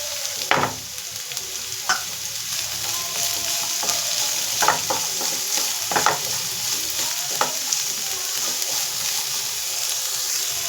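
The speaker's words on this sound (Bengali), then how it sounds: "এবার পেঁয়াজটা দিয়ে দেবো, টমেটোটা একদম শেষের দিকে দেবো।" Onion sizzles steadily in a hot pan for noodles while a utensil stirs it, with repeated scraping clicks over the continuous fry hiss, close and fairly loud.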